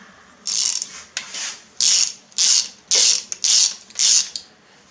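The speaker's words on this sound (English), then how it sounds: "these rods get torqued to 60 foot-pounds" A ratchet wrench torques the connecting rod bolts on a forged Mazda Miata 1.8L engine during a build, giving six or seven close, loud bursts of rapid clicking in steady strokes with short pauses between them.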